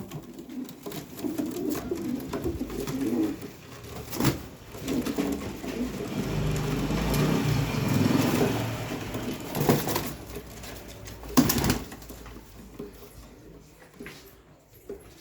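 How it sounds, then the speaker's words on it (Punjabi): Many pigeons cooing together at a seller's loft, a steady layered burble of low coos that rises and falls across the whole stretch, with occasional sharper knocks and flaps standing out and no talk. "ਕੱਲਾ ਕੱਲਾ ਕਬੂਤਰ ਚੈੱਕ ਲੋ ਜੀ"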